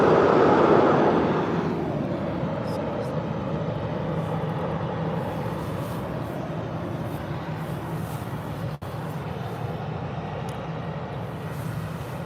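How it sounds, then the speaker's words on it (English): An Aer Lingus Airbus A320 jet at Birmingham airport gives a steady, broad engine roar that is loudest at the start, eases after about two seconds, then holds a continuous rumble with no talk over it. "Looks like Aer Lingus A320 is going to go first."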